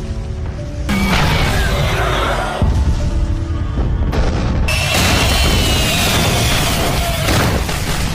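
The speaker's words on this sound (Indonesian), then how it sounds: "melemparkan buah bom yang hampir meledak ke arah ular" Several heavy booming bomb blasts in the 2021 film Snake, in quick succession, loud and close, each bursting into a sustained rumbling roar with crackling debris.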